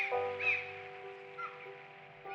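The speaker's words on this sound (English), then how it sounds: "Do you remember the beaches and the seagulls?" Seagulls calling at a beach, a few harsh squawking cries rising over a steady tonal background hum, moderately near and not very loud.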